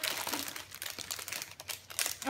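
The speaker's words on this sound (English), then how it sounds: "I'm gonna need those scissors." Close crinkling and snipping of scissors cutting plastic packaging on a Lego set, a quick run of crisp crackles lasting a couple of seconds.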